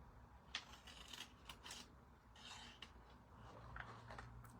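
Scissors snip through paper cardstock along a template, a few quiet crisp cuts and rustles close by, very faint overall, no talk.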